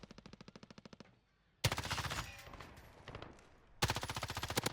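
Bursts of rapid automatic gunfire from the Warzone video game, loud and close, with a brief lull between sustained volleys; no talk.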